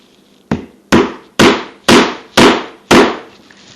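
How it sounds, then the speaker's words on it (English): A hammer drives a single-edge razor blade into a wooden board with six loud, sharp, evenly spaced blows, each ringing briefly before the next. "Hammer it into it."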